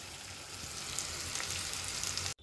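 Fenugreek and tamarind greens sauté in a hot pan, giving a steady, close sizzling hiss that carries on without a break and then cuts off abruptly near the end.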